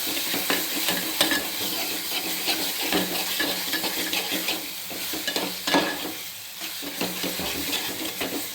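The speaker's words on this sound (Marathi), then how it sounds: "तेल सुटत नंतर चांगला हलवून घेते." Masala being stirred as it fries in oil in a pan, a steady close sizzle broken by scraping strokes of the spoon throughout, with no voices.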